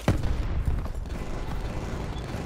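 Gunfire from a Call of Duty Black Ops 4 match, a dense run of loud, close shots with sharp bursts near the start, then sustained rattling and rumbling battle noise throughout.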